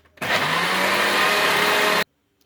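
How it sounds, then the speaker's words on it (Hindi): An electric blender strains loudly while whipping oil and milk into eggless mayonnaise, giving a steady, close whirring roar for about two seconds before it cuts off sharply. "अब जो अंदर से ब्लेंडर मशीन है वो बड़ी मुश्किल से चल रही है।"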